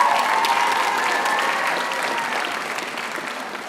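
Sustained audience applause at a middle school promotion ceremony, with a thick, steady wash of clapping from a large crowd that slowly fades toward the end.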